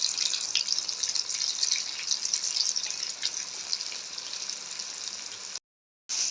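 Flour-coated chicken pakora fries in hot oil over low heat, giving a steady, dense sizzle that runs unbroken for several seconds before a brief cut.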